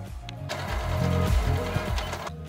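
A sewing machine stitches tie loops onto a skirt in a rapid, even mechanical chatter that runs steadily for about two seconds, close up, with no voices.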